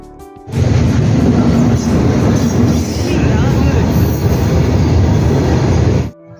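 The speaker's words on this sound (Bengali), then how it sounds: "দুটো ট্রেন একসাথে পার হলো" Two trains pass at once, a loud, continuous rumble roaring past up close, steady rattling and rushing noise lasting several seconds before cutting off.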